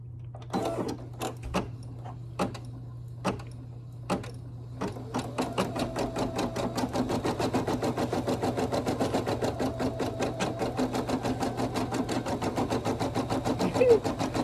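A Brother PE800 embroidery machine stitches black thread: a few separate needle clicks at first, then a steady, rapid, even mechanical chatter that runs loud and close until the end.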